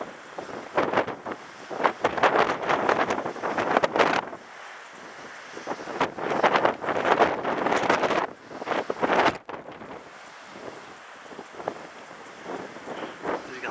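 Gusty coastal wind at Penmon blasts across a microphone in loud roaring bursts separated by quieter lulls, with faint talk in the background.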